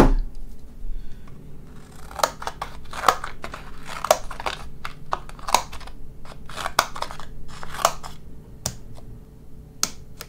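Leatherman multitool scissors handled close up with a series of sharp, irregular clicks and snips, some bunched together and others spaced apart, no talking.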